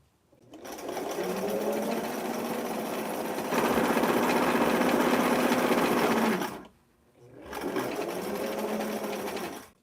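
A sewing machine stitches steadily through three layers of blouse fabric with piping, running in two long close bursts separated by a brief pause, loud and alone.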